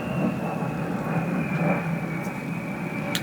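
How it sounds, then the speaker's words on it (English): Two military planes fly past outside, heard as a steady broadband roar with a sustained high tone. The sound stays fairly even and distant-sounding for the whole stretch. "see 2 military planes drive by, or fly by"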